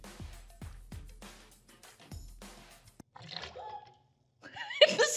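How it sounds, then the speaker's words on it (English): A water mechanism in a rebuilt 1,000-year-old humanoid drumming robot splashes and sloshes loudly after several sharp drum-like knocks, with the faint sound of a voice near the end. "The splash is too loud."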